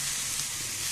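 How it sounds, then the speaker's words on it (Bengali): Onions frying in mustard oil in a pan, giving a steady, close, even sizzle with dense crackling hiss throughout and no voices. "পেঁয়াজগুলোকে ভেজে নিব"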